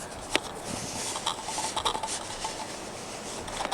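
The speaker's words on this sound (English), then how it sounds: "what you're hearing is me focusing" Manual focusing of a lens on a Pentax K-x camera during video recording, a soft continuous rubbing and scraping picked up close, broken by a few faint clicks and ticks.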